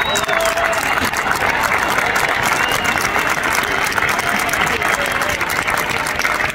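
Sustained applause from an audience at a farewell gathering, loud and steady throughout with a dense wash of clapping and some crowd noise.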